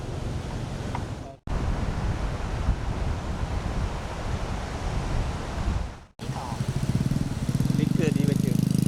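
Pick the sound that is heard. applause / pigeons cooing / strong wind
strong wind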